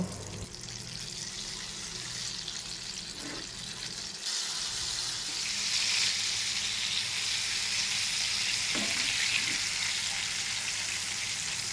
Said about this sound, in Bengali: চিকেনগুলো আবার ভেজে নেব, ব্রাউন কালার হলে তুলে নেব।